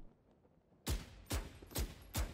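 Four sharp, loud gunshots from a first-person shooter game, fired one at a time in an even rhythm after a quiet lead-in, each with a punchy attack and a short decaying tail, no talking.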